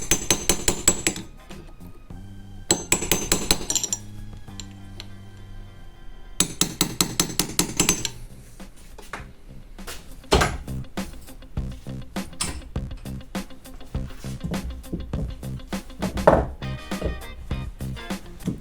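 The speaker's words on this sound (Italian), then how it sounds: "E tiriamo su la linguettina che bloccherà il dado in maniera definitiva." Hammer taps on the locking tab washer of a Malaguti Fifty clutch nut: several quick bursts of sharp metallic strikes in rhythmic clusters, then lighter scattered clinks and tool handling, close and without speech.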